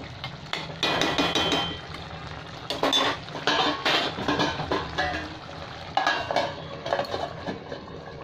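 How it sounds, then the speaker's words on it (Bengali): A utensil stirs and scrapes through a pan of Bengali fish curry, made from fish bones and heads, with repeated clinking and scraping strokes over a background sizzle, close and moderately loud. "দিয়ে একটু নেড়ে দিচ্ছি"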